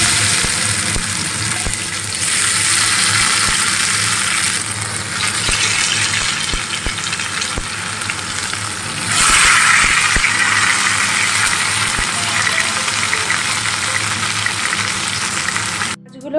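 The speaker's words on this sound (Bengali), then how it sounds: "মাছটাকে চলো সুন্দর করে ফ্রাই করে নিই" Bhetki fish fillets frying in plenty of hot oil for a Mughlai bhetki dish, a steady loud sizzle and crackle lasting throughout with a few soft clinks, no voices.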